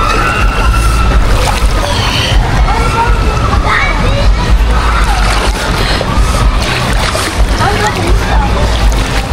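Water in a swimming pool sloshes and splashes continuously with loud churning surges, while several people shout and talk over the noise.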